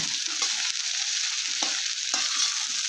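Okra frying in a pan is stirred with a utensil, giving a steady sizzle and several short scraping strokes against the metal, close and continuous with no talking.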